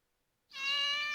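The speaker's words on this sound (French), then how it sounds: "Non loin de là, se promenait le chat." A single clear cat meow, close and fairly soft, rises and holds for under a second. It plays as a sound effect in a French telling of Peter and the Wolf.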